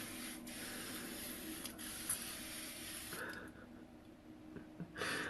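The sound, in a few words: spraying a face mist or setting spray onto the face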